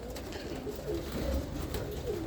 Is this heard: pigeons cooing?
yes